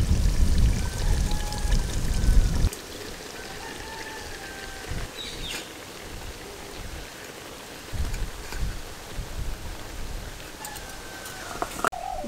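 Cooked rice is tipped into a pot of mutton biryani with a thick, nearly dry gravy, giving a loud, rough pouring rush for about three seconds, then only faint clatter and a quiet room.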